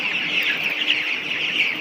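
Chickens raised on sand litter in a poultry shed cluck steadily nearby, a dense overlapping chorus of hens with no talking.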